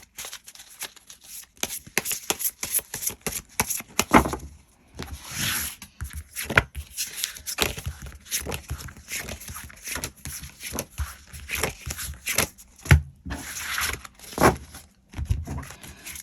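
Tarot cards are shuffled and drawn by hand in a close, quiet room, with a busy run of riffling, flicking and sliding card sounds broken by short pauses and sharp slaps as cards are laid down.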